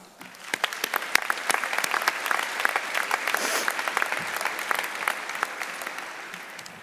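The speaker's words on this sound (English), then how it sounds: "let's give ourselves a big round of applause" Graduates at a spring 2021 commencement ceremony burst into a sustained round of applause, dense overlapping claps building quickly and holding steady from a large crowd, with no voices.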